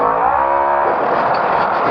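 Trophy truck engine roars at full throttle off-road, a loud close blare with rising harmonics that gives way to a broader rushing roar, brief and continuous.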